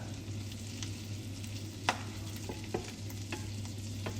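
Shrimp for a creamy garlic shrimp pasta frying in a pan, a steady close sizzle with a low hum beneath and a few sharp pops and clinks scattered through it.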